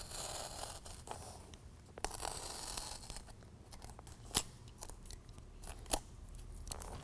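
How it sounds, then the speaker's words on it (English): A razor knife slices through a BedRug carpet liner in a Jeep Wrangler TJ bed, giving scratchy cutting and tearing strokes with a few sharp louder snips, close up and quiet, with no talking. "these little squares right here we're going to cut out with the razor knife"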